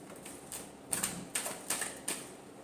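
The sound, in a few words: shuffling tarot cards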